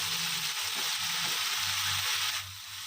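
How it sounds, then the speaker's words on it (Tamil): Adamant creeper (pirandai) frying in a pan with tamarind and green chili, a steady close broadband sizzle that holds loud throughout, easing slightly near the end. "நல்லா ஃப்ரை ஆகிடுச்சு கலர் மாதிரி வந்துச்சு"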